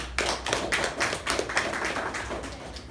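Meeting audience applauding as a woman is called onto the stage, a steady wash of many hands clapping close and fairly loud, sustained throughout without talk.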